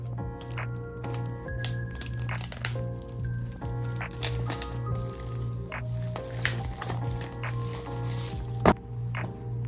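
A GAN 14 speedcube's packaging is opened close up: crinkling, rustling and crisp clicks and cracks over a steady low hum, with no talking.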